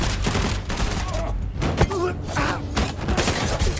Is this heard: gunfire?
yes